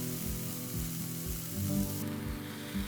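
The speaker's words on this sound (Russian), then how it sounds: "Укладываю филе на сковороду, накрываю крышкой, чтобы слишком сильно брызги не разлетались, и жду, пока филе станет румяного цвета." Chicken fillet frying in a covered pan gives a steady quiet sizzle with faint crackles and a low hum underneath, heard alone.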